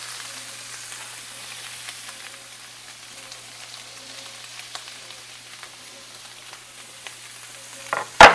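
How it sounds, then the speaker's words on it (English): Onions frying in a pan while browning for tacos, a steady, soft sizzle with faint crackles throughout and a sharp clatter at the end. "I'm going to add my onions to this."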